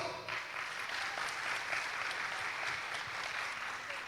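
An audience at an investment seminar applauds, a steady wash of many hands clapping at a moderate distance, continuous for several seconds without talk.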